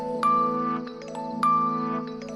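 A phone ringing with a bright electronic ringtone, two short repeated tonal bursts over a steady droning background, fairly clear and close.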